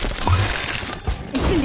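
A bombastic bomb spell goes off in the Harry Potter Magic Awakened video game, a short burst of crashing, whooshing effects layered over busy game sound.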